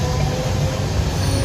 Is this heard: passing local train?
yes